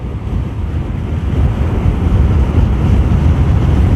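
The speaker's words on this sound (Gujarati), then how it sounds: "ભાઈ આવી ગયો દરિયો" Sea waves and strong wind at the shore near Dwarka make a loud, steady, rumbling roar with heavy wind buffeting on the microphone, continuous throughout and with no talking.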